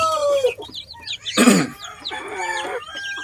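Free-range native chickens cluck and call in a backyard after being let out, with several overlapping bird voices close by and a louder squawk near the middle.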